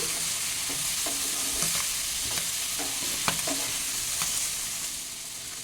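River kachki fish chorchori stirred in a pan, a continuous sizzle with a regular series of spatula scrapes and knocks against the pan, close and clear with no voices.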